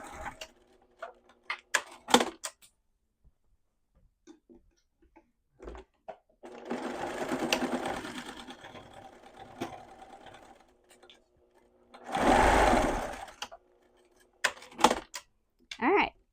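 A sewing machine stitches the side seams of a fabric love letter pouch at a quarter-inch seam allowance, running in several short bursts and two longer sustained runs, close and loud, with a few clicks and handling sounds between.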